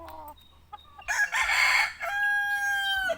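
A rooster crows loudly and close, with chickens clucking softly before and around it.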